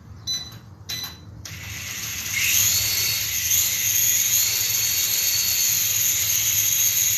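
Three remote-controlled toy helicopters take off and fly together, a close, steady high-pitched whir of spinning rotors that builds after a couple of brief mechanical clicks.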